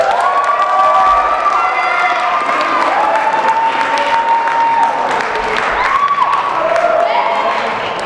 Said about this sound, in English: Let's give a round of applause for the judges.